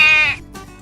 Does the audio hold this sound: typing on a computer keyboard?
no